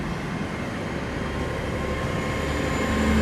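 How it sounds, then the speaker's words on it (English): A Class 800 train pulls out of Swindon station on a service to Cheltenham Spa, its steady low rumble and engine hum building slightly as it departs, close and continuous with no talk. "As this train leaves, we've got 800 with a service to Cheltenham Spa."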